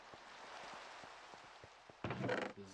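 Soft, steady patter of rain in Minecraft, faint and continuous, with light rhythmic ticks underneath and a louder burst of rustling movement near the end.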